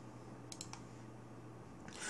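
A few sharp computer mouse clicks on a route-saving screen, several quick taps in a cluster followed by another near the end, close and clear over a quiet room.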